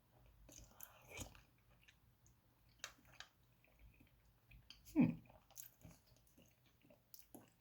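A mouthful of potato and vegetable is chewed close up in a quiet room, with soft wet squishing and biting sounds and one louder squelch partway through.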